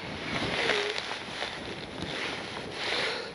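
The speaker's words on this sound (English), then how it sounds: "Very windy again." Strong outdoor wind buffets the microphone on a blustery day at a model aircraft flying field, producing steady rumbling noise with gusty swells throughout.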